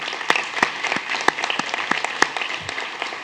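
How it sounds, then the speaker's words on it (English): A smaller audience at a school board meeting applauds a boys soccer coach, scattered steady clapping with a few sharp, louder claps standing out nearby. "let's give him a big round of applause"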